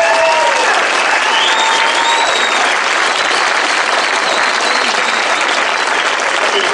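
Loud, dense clapping from an audience at a speech for the Friedenskraft peace association, a continuous wash of many hands with a few faint whistles or voices threaded through it, steady throughout.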